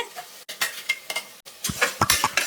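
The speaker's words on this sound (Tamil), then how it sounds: "இப்போது தக்காளி பழத்தையும் சேர்த்து நல்லா வந்து வதக்கி விட்டுருவோம்" Tomatoes sautéed with ground masala in a pan for rajma curry, with close, irregular stirring scrapes and a light sizzle, heard alone with no talk.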